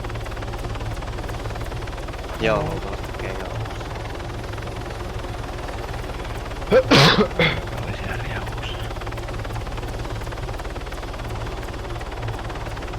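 Two helicopters flying overhead in a video game, a constant rotor thrum beneath Finnish talk, with brief louder bursts of game noise.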